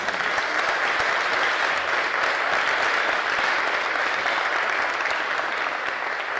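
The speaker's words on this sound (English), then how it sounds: "how about another round of applause for our Wesleyan Singers?" Dense, sustained applause from a large university audience for a choir, a loud continuous wash of many hands clapping at once that holds steady throughout with no speech.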